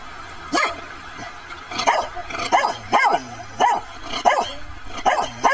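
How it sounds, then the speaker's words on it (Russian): A dog barks repeatedly up close, about eight sharp barks in a fairly even rhythm over a noisy background. "Собачка говорит гав-гав."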